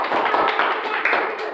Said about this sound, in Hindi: अब जोरदार ताली बजा दो, अच्छा लगा तो।